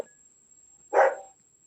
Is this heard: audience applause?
no